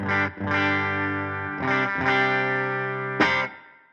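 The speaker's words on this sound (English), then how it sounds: "Just a nice little bit of reverb on a clean amp" Clean electric guitar chords through a clean amp ring out one after another, each strum sustained and washed in a light reverb tail before fading.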